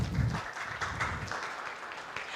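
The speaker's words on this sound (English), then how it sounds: "can we please give them a big round of applause to start this panel discussion" Audience applause opening a panel discussion at an ICANN APAC-TWNIC engagement forum: a brief burst of clapping that is louder at first and then thins out, heard from within a conference hall.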